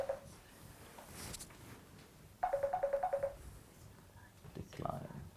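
A mobile phone rings during a cosmetic medicine lecture: a short tonal ringtone pattern repeats in quick pulses, fairly faint, under a quiet room with low murmuring voices.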